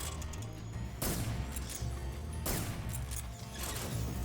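Gunshots in Metal Gear Solid 3 sound as two sharp loud bangs about a second and a half apart, each followed by a mechanical rattle, over a low background hum.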